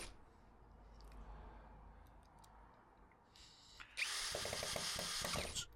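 A power drill drives the screws supplied with cabinet hinges, a loud whirring burst with clicking that starts near the end after quieter background noise.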